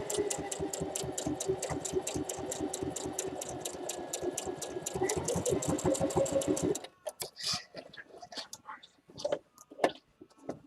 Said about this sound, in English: And then just gently sew all the way around the top.